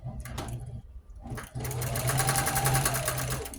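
A sewing machine stitches a quilt with a Jeep theme, running in a short burst, pausing briefly, then whirring steadily and close by in a fast, even rhythm of needle strokes, with no talking over it.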